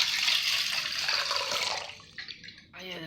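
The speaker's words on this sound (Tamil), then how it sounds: "கொஞ்சம் தண்ணி ஊற்றி மூடி வச்சுக்கலாம்." Water being poured into a cooking pot of turkey berries, a bright close splashing pour that fades after about two seconds, followed by a few softer trickles and handling sounds.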